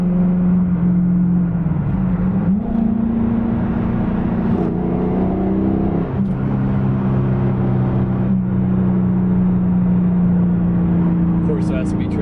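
A rebuilt 550 hp Camaro with a manual gearbox accelerates hard, its engine drone rising and shifting through gears over a steady loud road roar from inside the car, with people talking over it.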